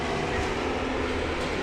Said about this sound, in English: they're doing train work.